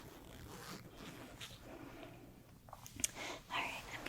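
A zip-up sweatshirt without a hood being handled: short, close zipper rasps and fabric rustles, quiet and intimate, in brief bursts over a soft background.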